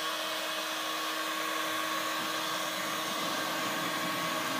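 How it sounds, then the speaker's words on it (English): A small 200 watt, 24 volt, 4 pole DC motor drives a 12-inch, roughly 25 kilo flywheel, giving a steady, even whine with a sustained tonal hum, close and constant throughout, no voices. "That's our new little DC motor that we fitted a couple of days ago. 200 watt, 24 volt,"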